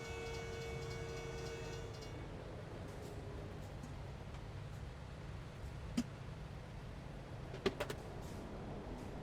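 A train passes at a railroad crossing in American Truck Simulator, a steady low rumble of rolling railcars with faint clicks and a couple of sharp brief accents, no talk.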